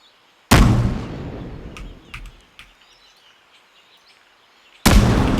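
Grenade explosions in a video game: two heavy booming blasts several seconds apart, the first decaying into a rumbling tail with a few small pops and distant bird-like chirps between.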